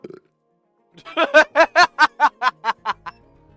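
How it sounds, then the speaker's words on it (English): A long, loud, rhythmic burp in the video game Project: Eden's Garden, pulsing about a dozen times close up after a brief vocal sound. "The burp."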